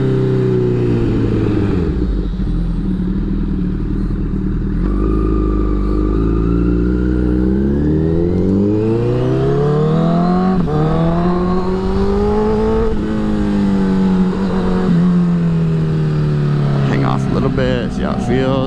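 Honda CBR1000RR sportbike ridden through a U-turn, engine note dipping and then climbing through repeated revving accelerations, loud and close with wind rush, and a rider's voice probably heard over it.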